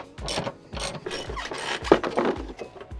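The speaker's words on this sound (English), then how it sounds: "it's a good old 13mm socket that gets them out" A hand ratchet with a 13 mm socket undoes bolts underneath a van during a camper conversion, giving a run of close, rhythmic clicking strokes with dull knocks at a steady pace.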